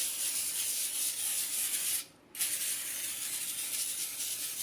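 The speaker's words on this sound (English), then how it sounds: "I've learned to add some non-stick cooking spray to the racks" Non-stick cooking spray hisses from a can onto oven racks in two long close bursts separated by a brief pause.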